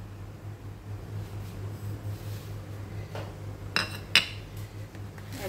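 A spoon stirs cumin, dried coriander and ajwain together in a bowl while preparing kadhi, soft quiet scraping with two sharper metallic clinks near the end over a low background hum.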